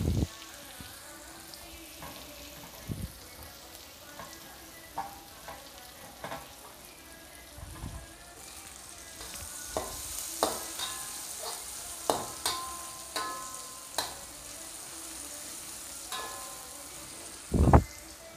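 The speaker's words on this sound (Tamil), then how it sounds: "பூண்டியை சேர்த்து நல்லா தாளிச்சுக்கலாம் ஃப்ரெண்ட்ஸ்." Garlic frying in oil in a pan, a soft continuous sizzle punctuated by scattered clicks and scrapes of stirring, growing busier and louder partway through, close up with no talking.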